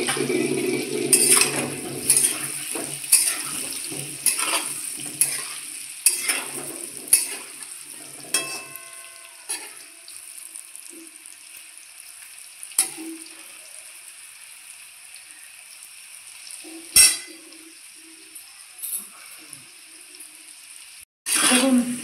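Potatoes frying for chicken biryani, a soft sizzle under frequent stirring and metal clinks of a spoon against the pan, busiest early then thinning to sparse scrapes and taps with quiet gaps.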